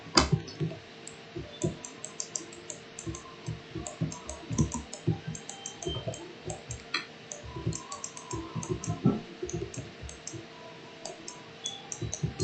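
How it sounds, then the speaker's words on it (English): Sharp, intermittent clicks of a computer mouse and keys tapping in irregular bursts, close and fairly quiet, with no talking. "Sorry if you hear the mouse clicking in the background."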